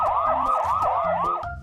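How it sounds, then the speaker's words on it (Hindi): Police car siren wailing in fast repeated sweeps, about five quick cycles, fairly loud over a faint low rumble of traffic. "पुलिस सायरन बजाती हुई आई।"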